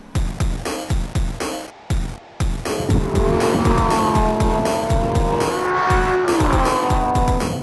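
Lamborghini Gallardo LP560 supercar revving hard with rapid gear changes, then sustained loud tire squeal as it slides, the engine roaring close and continuous under the screech.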